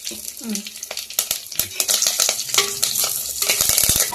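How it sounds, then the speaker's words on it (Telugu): Two chillies and curry leaves hit hot oil and crackle into an uneven, spitting sizzle, with clinks of a spoon against the pan and a little talking in the background. "మిరపకాయలు వేస్తున్నా, 2 మిరపకాయలు, కరివేపాకు వేస్తున్నా"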